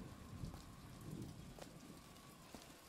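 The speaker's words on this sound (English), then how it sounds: "Wow, it's kind of stormy out here" Steady stormy rain patters on surfaces outdoors in BioShock Infinite, a dense continuous wash with faint low thunder underneath and no talking.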